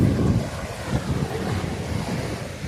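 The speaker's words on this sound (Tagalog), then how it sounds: "Ang lakas ng alon." Strong ocean waves break on an island beach in the Philippines, a loud and steady roar of surf with heavy wind buffeting the microphone throughout and no voices.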